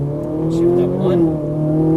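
Ferrari 458 Italia V8 engine pulling steadily on a race track, a loud sustained drone with rising and falling harmonics, close and continuous, with a voice coaching over it.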